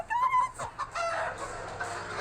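Chickens cluck and squawk close by in a short, uneven burst of calls, one higher cry near the start.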